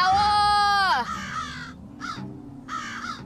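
Crows caw loudly at dusk, one harsh drawn-out call followed by shorter rasping caws, with a voice speaking nearby.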